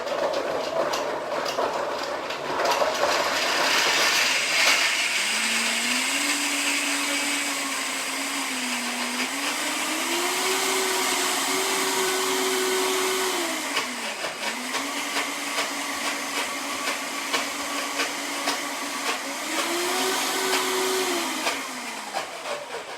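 Vitamix blender pureeing horseradish with white vinegar, a loud, sustained motor roar with whining pitch that rises and falls several times as the speed changes, running continuously for over twenty seconds.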